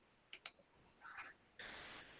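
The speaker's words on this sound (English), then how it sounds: "And I like the crickets in the background because it's perfect for that." Crickets chirping in the background, several short high-pitched trilling bursts spaced irregularly, faint and close-miked, with no talking.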